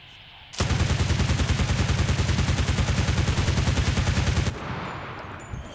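Automatic gunfire sprays continuously in a video game, a loud, dense burst lasting about four seconds and ending abruptly, with quieter game ambience afterward.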